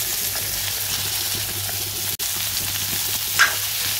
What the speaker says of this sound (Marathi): भोपळा छानपैकी तेलामध्ये तळून घेऊया